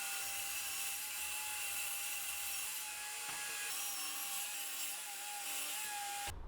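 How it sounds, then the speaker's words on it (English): A table saw rips a wooden board into two cabinet sides, with a steady whining blade and a continuous loud cutting drone, close and uninterrupted. "I could cut down the board into two individual sides with my table saw."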